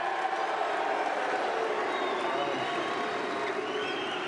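A tennis crowd at the Australian Open cheering and applauding in a dense, steady wash of clapping and shouts that holds at a constant level throughout.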